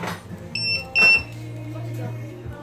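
An RC battery low-voltage alarm on a model being set up gives a few short, shrill electronic beeps, separated by brief gaps, over a low steady hum and background noise.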